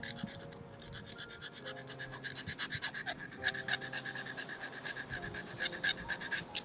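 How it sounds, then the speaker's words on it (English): A metal file rasps against a fishing hook in quick, rhythmic strokes, a steady scraping sound that grows slightly louder toward the end. "So I'm gonna file this hook first."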